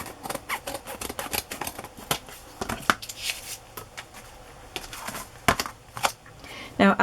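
Scissors trimming the edges of a kid's book cover, a rapid series of crisp snips and cuts close by, irregular in rhythm with paper handling noises between.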